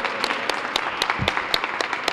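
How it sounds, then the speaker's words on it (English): Sparse, rhythmic clapping from a small audience at a youth art exhibit unveiling in a library, with individual claps spaced about a quarter second apart, moderately close and without speech. "Can we give him a round of applause?"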